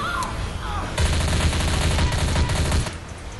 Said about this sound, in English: I'm shooting this boomer!